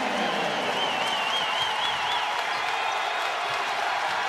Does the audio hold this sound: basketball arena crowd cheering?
yes